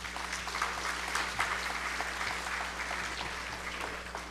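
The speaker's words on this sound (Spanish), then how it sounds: "Demos un aplauso al señor Manuel Arenilla." An audience at a panel discussion on civil service talent management applauds a panelist, a dense steady clatter of many hands clapping together for several seconds, heard from within the room over a low hum.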